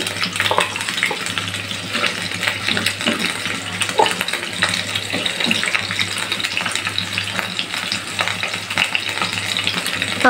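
Poultry chicken wings with added potatoes fry in a pan, a steady close sizzle with crackling bursts and stirring noises, continuous and fairly loud with no talk.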